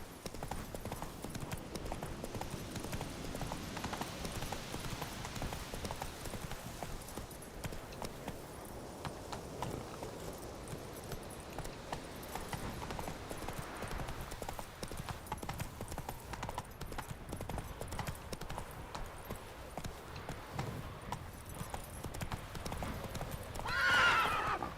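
In The Witcher 3 video game a horse gallops with a fast, steady clip-clop of hooves and neighs now and then, set against faint background ambience, with a short whinny near the end.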